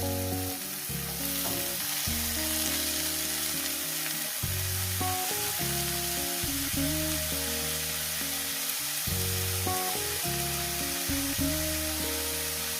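Leafy greens (shak) frying in a pan for a shak chorchori with lote fish: a steady loud sizzle with crackling and stirring scrapes, while music plays underneath.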